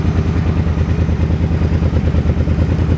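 A 2009 Suzuki C50 Boulevard Volusia 800cc touring motorcycle idling close by, its V-twin engine giving a loud, steady, lumpy throb with mechanical clatter and no talk over it.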